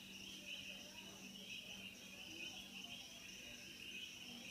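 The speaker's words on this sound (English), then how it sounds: "You can hear all these birds singing there outside." Birds sing outdoors at a birthday gathering around a fire, faint, steady high chirping and trilling heard from a distance, with a low murmur beneath.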